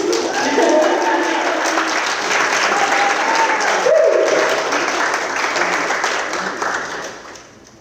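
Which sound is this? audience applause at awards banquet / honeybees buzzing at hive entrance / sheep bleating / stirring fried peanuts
audience applause at awards banquet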